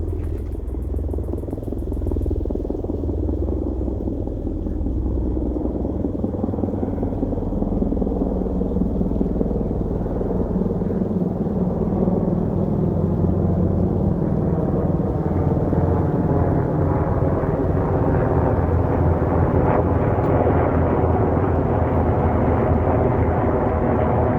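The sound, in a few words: Black Hawk helicopters flying overhead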